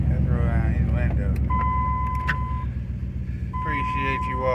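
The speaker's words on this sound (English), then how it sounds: "Let's roll down his window." Dodge Ram truck's power window motor whirring briefly as the window rolls down, over a loud idling engine and someone talking nearby.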